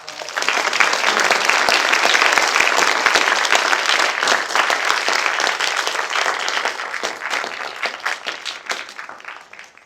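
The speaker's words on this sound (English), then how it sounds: "give yourselves a round of applause" University audience applauding after a talk on protesting U.S.-Israel policy, a thick sustained roar of many hands that swells quickly, holds loud and near for several seconds, then slowly thins out toward the end.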